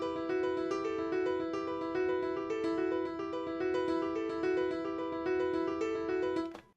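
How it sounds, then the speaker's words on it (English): A simple piano melody repeats a short pattern of quick notes in a steady rhythm, bright and continuous, ending abruptly. "the first thing that I started with is a pretty simple repetitive piano melody."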